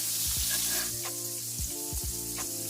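Thick-cut bacon frying on a very hot Blackstone griddle gives a steady, close sizzle throughout, with a few low thuds and scrapes mixed in.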